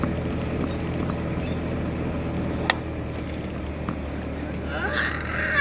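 The motor of a motorized bangka runs with a steady, close, rumbling drone and a breezy wash on top. One sharp click cuts through midway. The engine noise holds level throughout.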